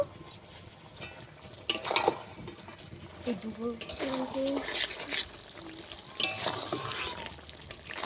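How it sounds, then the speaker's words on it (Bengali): Spinach is sautéed and stirred in a pan, with intermittent scrapes and clatters of a utensil over a low hiss while someone talks throughout. "ভালোভাবে দু মিনিট কষিয়ে নেবো অল্প একটু লবণ দিয়ে দেবো"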